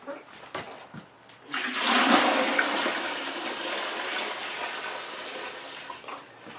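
Pumpkin mash for a wheated bourbon is poured into a fermenter, a loud sustained rushing, splashing gush of liquid after a few light knocks, tapering slightly near the end.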